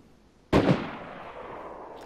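A single sharp gunshot rings out in the video game DayZ, loud and abrupt, trailing off in a lingering echoing decay.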